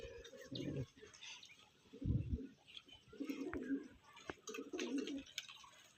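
Pigeons kept as a hobby, loose Andra pigeons in a loft at Bagnan, give low, throaty coos in several separate bursts, fairly close, with a person's voice partly overlapping.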